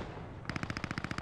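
Rapid automatic gunfire from a Panzer tank in the WWII video game Post Scriptum, a steady burst of about a dozen evenly spaced loud shots starting abruptly after a brief quiet rumble.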